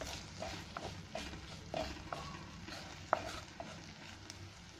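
Spoon stirring chili, turmeric, coriander and cumin powders into frying brinjal (eggplant) in a pan, soft scrapes and light clinks over a low background sizzle, with a few sharper taps scattered through.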